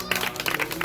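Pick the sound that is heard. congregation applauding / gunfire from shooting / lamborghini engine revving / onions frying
congregation applauding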